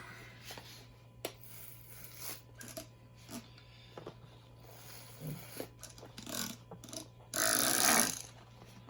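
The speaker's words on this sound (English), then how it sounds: "So first let me spray the top." A short burst of water spray hissing from a spray bottle onto pepper seed starter soil, close by, after scattered handling clicks and rustles against a steady low hum.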